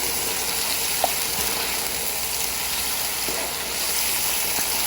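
Steady, loud sizzling hiss as water goes into a hot pot of potato and meat curry, with faint stirring clinks throughout.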